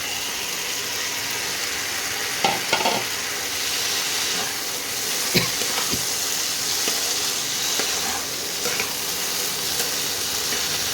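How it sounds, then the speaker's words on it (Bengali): Okra frying in spiced oil in a pan, a steady close sizzle and hiss with occasional sharp clinks and scrapes from stirring, no voices. "মশলাটা দিয়ে এবার তেল ছাড়তে আরম্ভ করে দিয়েছে এবারে আমি ঢেঁড়সটা দিয়ে দেবো"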